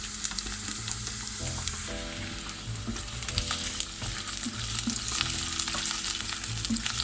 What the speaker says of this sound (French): Et je vais les faire revenir quelques instants. Je rajoute mon ail émincé.